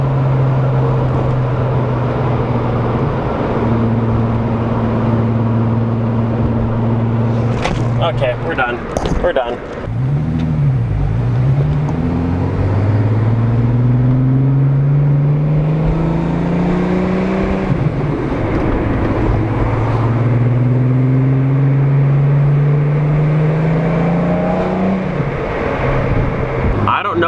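The engine of a 1987 MK2 Jetta idles and then revs up and down in several rising and falling sweeps, loud and close, with a short clatter midway and people speaking near the end.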